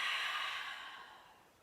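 A long, airy exhale through the nose during a yoga stretch, close and soft, fading gradually to quiet.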